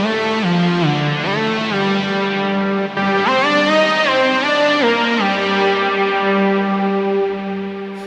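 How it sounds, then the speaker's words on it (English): Bright, distorted synth lead from Iconic layering the Godzilla Lead 4 and Godzilla from Forbidden Planet patches, playing a sliding, pitch-bending melody with echoing harmonics, loud and continuous with no talk. "this is using the Godzilla lead 4 and then just the Godzilla from Forbidden Planet"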